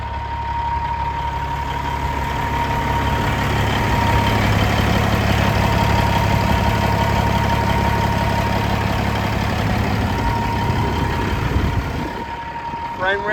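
A 2015 Kenworth W900L glider truck with a Cat engine idles with a steady, deep diesel rumble close by, holding even for about twelve seconds before dropping off near the end.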